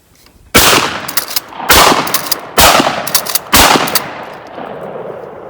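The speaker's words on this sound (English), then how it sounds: "I'm just going to shoot these into the hillside over there just to show you that these do cycle in the Browning" Four loud, close blasts of 10 gauge 2 3/4 inch 00 buckshot from a Browning semi-auto shotgun, fired at roughly one-second intervals into a hillside, each report followed by a brief echoing tail.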